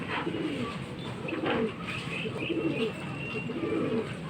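Pigeons coo steadily in soft, overlapping calls, with a few chirps from other birds over a constant low background hum.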